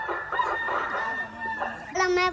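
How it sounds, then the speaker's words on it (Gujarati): A rooster crows once, nearby and clearly, in a drawn-out call that rises at the end, while faint background murmur continues underneath. "જો કુકડો બોલી ગયો છે."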